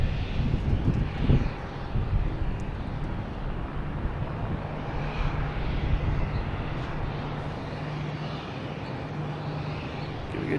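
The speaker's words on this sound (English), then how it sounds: "We get JetBlue taking off, heading to San Francisco" JetBlue airliner taking off at Boston Logan airport, its engines producing a broad, continuous roar that fills the whole stretch at steady loudness, with some wind buffeting on the microphone.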